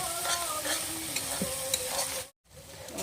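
Spice paste for a village-style chicken and potato curry fries in oil in a pan, a continuous close sizzle with scraping stirs and light clinks, cutting briefly to silence near the end before resuming.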